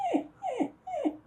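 A dog whimpers three times in a row, each a short falling whine evenly spaced about half a second apart, close and fairly clear with no talking.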